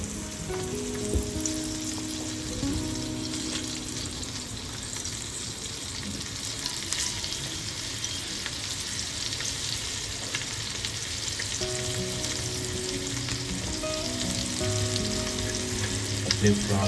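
Semolina-coated pomfret shallow-fries in hot oil with a dense, continuous sizzle, joined by occasional stirring and scraping from the pan over the full stretch.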